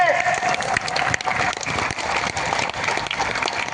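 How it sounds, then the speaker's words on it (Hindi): A large crowd at an evening poetry gathering on the Bariatu ground in Ranchi applauds loudly and continuously, dense clapping with some cheering mixed in. "एक एक हाथ उठा करके, ताली बजा करके इनको एहसास दिलाए"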